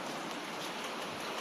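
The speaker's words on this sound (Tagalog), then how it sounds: "Lakas ng ulan." Heavy rain falling steadily on a morning in Batangas, a dense, continuous broadband hiss that stays even and close throughout with no talk over it.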